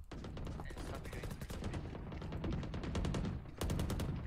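Rapid automatic gunfire in the shooter game Valorant, long dense bursts of loud shots with a brief pause near the end before the firing starts again. A voice can be heard faintly under the shots.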